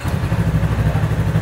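Yamaha MT-03 321cc motorcycle engine running loud and close, a steady buzzing drone with slight rhythmic pulsing and no audible voices.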